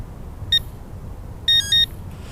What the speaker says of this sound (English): you press and hold for 2 beeps